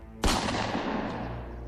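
A single loud shotgun blast with a sharp onset and a long rumbling decay that lingers through the rest of the moment, with no voices.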